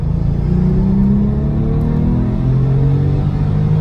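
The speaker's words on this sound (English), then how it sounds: "All right, so here we are, we're in third gear. All right, we're just gonna pull it now." Porsche Turbo engine pulls at full throttle in third gear, a loud, close, continuous roar climbing smoothly in pitch throughout.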